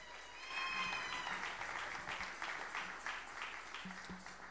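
A church congregation applauds and cheers in praise, steady clapping spread across the room with distant voices mixed in, moderately loud and continuous throughout.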